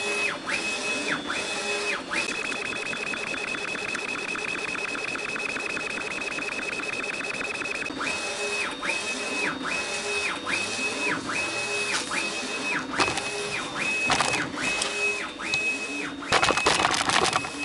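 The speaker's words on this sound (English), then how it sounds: "You can just put it in, click print, good to go." A UV printer printing onto a light switch cover plate, its print head carriage shuttling back and forth in steady repeating passes with a whining motor tone and regular clicks, close and continuous throughout.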